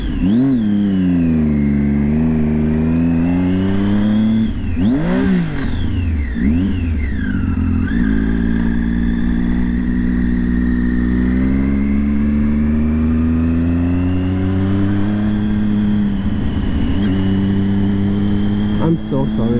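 A motorcycle engine revs loudly and continuously, pitch sweeping up and down through repeated gear changes, with a strong sustained tone throughout and a person talking over it.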